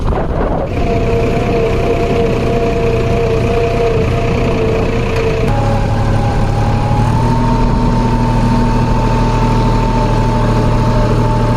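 A tractor engine runs steadily while reversing, a loud, sustained drone whose pitch steps up partway through as the revs rise.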